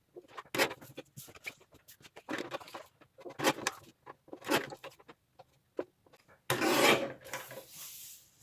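Paper cards for a yearly journal being cut, close rasping cuts in short separate strokes with pauses between, ending in a longer, louder stroke.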